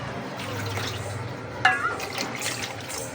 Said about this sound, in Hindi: 5 से 6 गिलास, यानी कि 2 लीटर के आसपास हमने इसमें पानी ऐड कर दिए